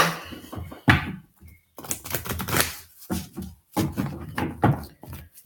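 Tarot-style cards are shuffled for a card reading, with repeated crisp riffling bursts of papery clicks separated by brief pauses, close and fairly loud.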